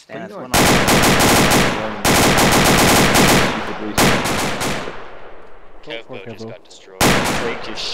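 Sustained bursts of automatic gunfire from a tactical military shooter game, Arma, played in a group: loud, rapid volleys a couple of seconds long, separated by short gaps, with scattered lighter shots between them.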